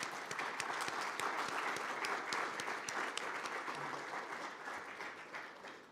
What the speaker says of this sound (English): round of clap.